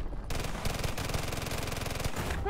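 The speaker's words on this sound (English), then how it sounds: "So let's see how good the tactical SMG does." Tactical SMG firing in the video game Wrought Flesh: a loud, rapid automatic stream of shots, rattling almost steadily from start to finish with only brief gaps, heard alone with no talk.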